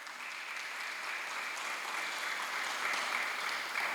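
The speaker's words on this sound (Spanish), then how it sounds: "Un aplauso," Steady applause from an audience at an academic experience-exchange event, even and continuous throughout, heard from some distance at moderate level.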